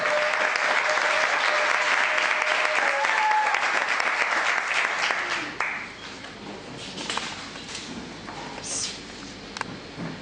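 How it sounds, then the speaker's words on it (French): Loud, sustained applause from a crowd that fades into scattered clapping after several seconds, with a voice briefly audible. "Mbala Marie Marguerite, vous applaudissement."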